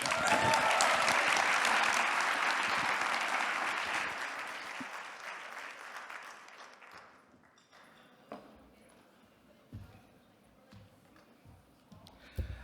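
A crowd's round of applause at an Indigenous-led clean energy gathering swells loudly at first, then thins out over several seconds into a few scattered claps with faint voices in the room.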